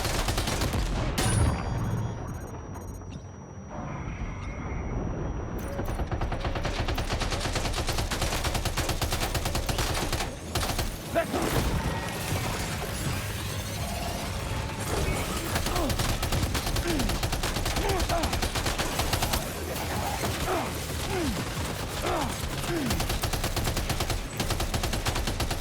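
Sustained machine gun fire in Death Stranding 2, shooting at ghost mechs, with dense overlapping bursts running nearly continuously and loud throughout alongside other battle noise.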